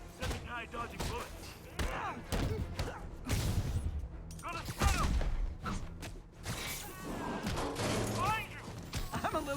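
Rapid video game gunfire crackles in repeated bursts with clanks and crashes, fairly quiet, mixed with talking voices throughout.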